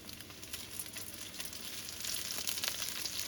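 Tuna fish cakes fry in vegetable oil with a steady, close sizzle and crackle that grows slightly louder toward the end, with no talking.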